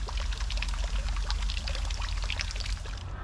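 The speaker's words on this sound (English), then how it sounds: "it is used to provide running water needed in the purification ritual that occurs before the tea ceremony" Water runs steadily into a stone basin used for purification before a tea ceremony in a Japanese garden in Brisbane, a continuous soft pouring trickle heard nearby with no talking.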